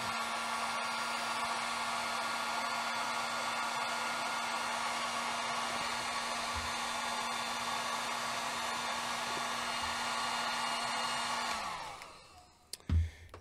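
Heat gun shrinking heat shrink tubing over a lithium battery cable fitted with Anderson power poles: a loud, steady blowing whine and rush of air that runs unbroken, then winds down and cuts off near the end, followed by a couple of clunks.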